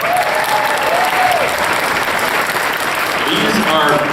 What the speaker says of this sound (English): Huge round of applause, please